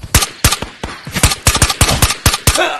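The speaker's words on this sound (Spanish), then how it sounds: "¿Tengo disparos muy lejanos?" Rapid gunfire in the VR shooter Ghosts of Tabor, about a dozen sharp, loud shots in quick irregular bursts, crisp and close with no talking.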